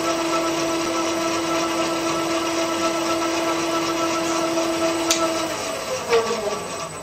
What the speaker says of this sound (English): The next thing to do is bring the rotor up to speed again, and when it's up to speed, collect the data.